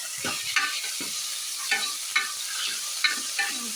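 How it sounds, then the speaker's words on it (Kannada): Dried red chillies, garlic and tomato fry in a pan with a steady close sizzle, broken by repeated scraping stirs at a quick, uneven rhythm. "ಅಷ್ಟು ಹಾಕ್ಕೊಂಡು ಸ್ವಲ್ಪ ಫ್ರೈ ಮಾಡ್ಕೊತಾ ಇದ್ದೀನಿ."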